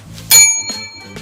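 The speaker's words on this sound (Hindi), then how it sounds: "घंटी भी बजा।" A small bell rings once with a sharp, loud strike and a sustained metallic ring, followed by softer low knocks.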